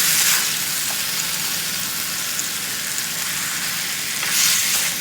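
Meat being stirred as it fries in a pan with seasoning, giving a steady loud hiss and crackle up close, with faint scraping from the mixing underneath.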